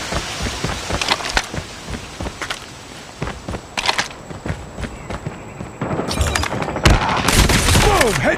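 Rapid gunfire in the mobile shooter Call of Duty Mobile, with dense bursts of automatic shots, footsteps and impacts in irregular clusters that build louder toward the end, with occasional game voice callouts.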